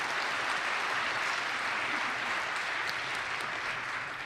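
A crowd applauds readers at a live event, dense, steady clapping from many hands filling the room for a few seconds without a break.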